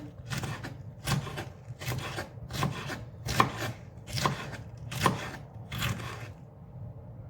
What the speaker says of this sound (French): on va couper tous les morceaux qui nous restent